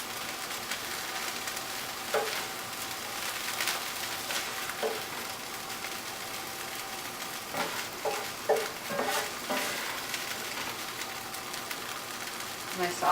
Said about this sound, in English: My sauce is still simmering.